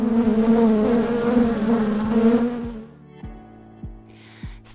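Honeybees at a bee farm hum in a loud, dense, steady drone for about three seconds, then the buzz drops away, leaving a few faint thumps and quiet rustles.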